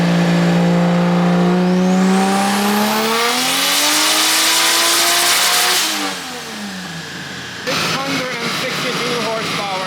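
A 2JZ-swapped BMW E36 on a dyno revs hard, its engine note climbing steadily toward about 7,300 RPM before dropping off, then a rough, pulsing idle and off-throttle crackle follow, loud and close.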